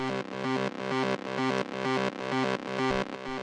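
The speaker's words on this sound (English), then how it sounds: "After that, we have the second lead, which sounds like this." Second lead synth in a Drumcode-style techno track, a distorted, chorused tone playing a single repeated C in short rhythmic bursts, loud and upfront with a steady pulsing pattern.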